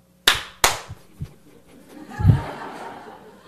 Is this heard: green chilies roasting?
no